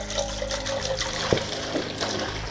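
Homemade hard cider brew is poured into a container, a continuous splashing liquid stream with a small gurgle midway, moderately quiet.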